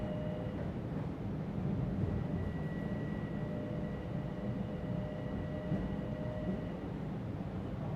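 Steady low rumble of a train ride from JFK Airport toward Midtown Manhattan, continuous rolling noise with faint tonal hums, no voices.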